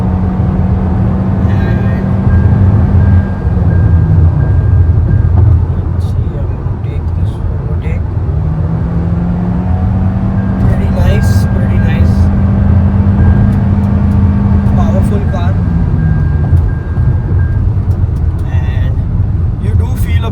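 Interior drone of a Toyota Innova Hycross ZX hybrid with e-CVT on the move, a loud continuous low rumble with rising and falling engine tones and road noise, while someone talks throughout.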